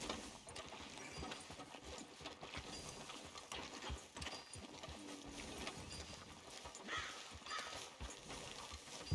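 Horse hooves clip-clop at a steady walking pace on a street in the video game Red Dead Redemption 2, mixed with a busy low ambient rumble throughout.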